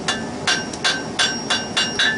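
Hammer blows land on hot iron at an anvil during forge welding of grille sections, six sharp ringing strikes in a steady, slightly uneven rhythm, close and loud, with no talking.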